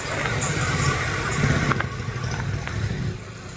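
Sewing machine stitching a pocket onto trousers, running in a fast continuous rattling whir with a slight pause and restart partway through, close and steady without talk.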